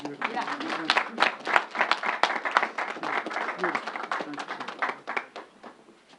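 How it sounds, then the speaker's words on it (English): An audience in Harlem claps steadily for a speaker at a vaccination event, a dense burst of applause that holds for several seconds and then thins out and fades near the end. "Let's give him another round of applause"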